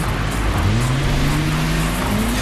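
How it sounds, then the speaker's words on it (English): A Nissan GT-R drives out on a race track, its engine note sweeping upward in a loud, continuous rising whine as it accelerates hard for a couple of seconds, with no voices. "It's not long before the car's out on the track"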